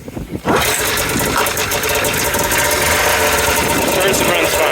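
A 2002 Arctic Cat Z370 snowmobile engine catches after a brief crank and runs steadily at a loud, close, buzzy idle for several seconds, with no speech over it.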